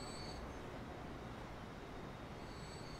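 Train rolling along in Transport Fever 2, a faint, steady rumbling wash of wheels and track noise with a thin high whine at the start and end, no talking.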